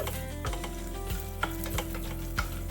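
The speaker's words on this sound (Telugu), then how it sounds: "నాలుగు వెల్లుల్లి రెబ్బలు కొంచెం చింతపండు వేసుకొని వీటిని ఫ్రై చేసుకోవాలి" Garlic cloves and tamarind fry in a pan for hotel-style idli chutney, giving a steady close sizzle with a few clinking stirs of a utensil spaced through it.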